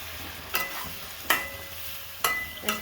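Chopped tomatoes going into frying masala for matar mushroom curry, with three or four bursts of stirring and scraping over a low steady sizzle in the pan.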